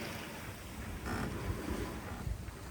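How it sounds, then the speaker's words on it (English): Waves and swell wash around a sailboat sailing upwind in 20-plus knots of wind across the Dover Strait, a constant broad roar mixed with wind buffeting the microphone, with no talking. "there are just too many waves, the swell is just too big"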